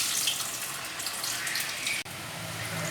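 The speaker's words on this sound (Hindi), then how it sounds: "चलिए, अब ऑयल भी इधर गर्म हो चुका है, इसमें डालते हैं एक एक करके।" French fries being dropped into hot oil one by one and starting to fry, giving a steady bright hiss and bubbling throughout, with a brief dip partway before the sizzle resumes.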